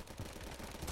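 Rapid automatic gunfire from a shooter video game, a dense stream of close, loud shots with a burst rising at the end, no talk over it.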